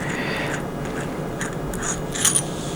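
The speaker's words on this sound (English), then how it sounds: "7/16 wrench and start loosening the 1/4 bolts on the bottom block" A 7/16 wrench loosens 1/4 bolts on the bottom block of a 70cc dispense pump during a rebuild, giving close, soft ratcheting clicks and metallic creaks with a sharper tick near the end.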